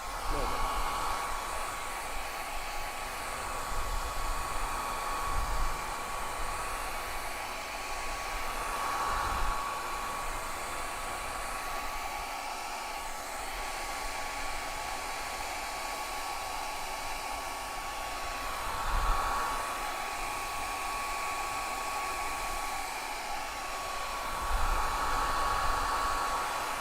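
A hair dryer blows steadily to dry paint on a beginner's flower painting, a loud continuous whooshing hum with slight shifts as it moves, running alone for nearly half a minute.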